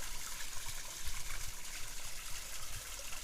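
Water trickling and splashing down a garden koi pond waterfall, a steady broadband babble with small gurgling pulses, close and continuous, nobody speaking.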